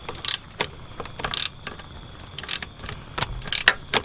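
Close, faint ratcheting clicks come in short bursts as a clamp on the intake tube of an Infiniti G35 is tightened.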